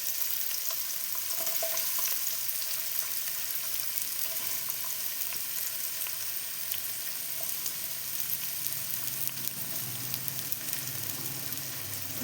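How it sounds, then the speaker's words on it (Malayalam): Finely chopped onions frying in a pan for egg biryani, an even, continuous crackling sizzle with faint occasional stirring, near and unaccompanied by speech. "സവാള ഇട്ട് കൊടുക്കാം"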